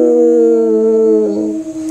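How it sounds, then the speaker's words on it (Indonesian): A dog gives one long, loud, close wolf-like howl that holds a steady pitch before wavering and breaking off near the end. "anjing ini ngelong-ngelong bang"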